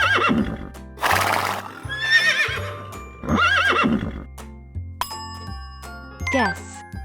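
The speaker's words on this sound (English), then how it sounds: "Horse." A horse gives a few loud, close whinnies, the neighs rising and falling in short bursts. They are separated by quiet gaps and followed by bright chime and jingle tones at the end.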